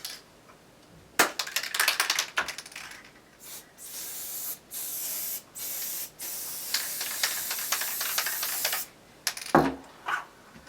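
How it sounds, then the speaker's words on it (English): Repeated bursts of aerosol adhesive spray hiss loudly and close up, several long blasts separated by short pauses, with a few clicks between them. "So we're going to spray both sides. I'm going to spray the top first."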